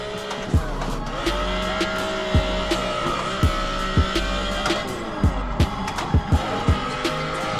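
BMW E46 wagon drifting, engine revving hard with repeated rising and falling tire squeals and sharp screeches, loud and close, no talking over it.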